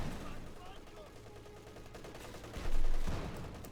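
Vickers machine gun fire in the World War II strategy game Company of Heroes 2, a burst of rapid shots that swells near the end, mixed with battle noise under a commentator's voice.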